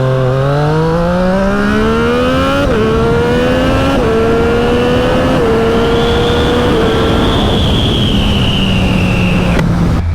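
A Triumph Street Triple 765 RS fitted with a SPARK exhaust revs and accelerates through several gear changes, its loud, bassy howl climbing in pitch with each shift before easing off, alone and close.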